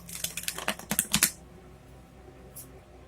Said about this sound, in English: Let me shuffle these cards one more time.